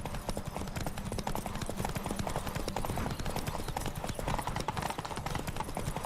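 Horse galloping in the video game The Witcher 3: fast, even clip-clop hoofbeats drum steadily throughout at moderate loudness, with game sounds faintly underneath.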